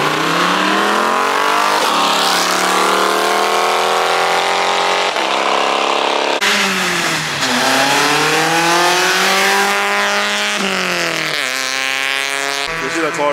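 A car on Laurel Run roars close by, its engine pitch climbing and dropping through repeated gear changes and revs, loud and sustained throughout.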